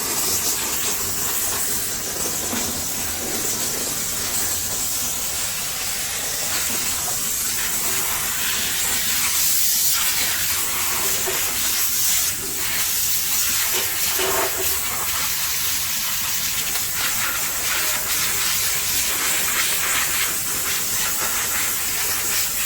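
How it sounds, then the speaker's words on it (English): Pressurized water spray blasting dirt off a car wheel and brake caliper during detailing, a loud, steady, broadband hiss with shifting splashy texture as the jet moves across the surface. "washing the dirt away nicely"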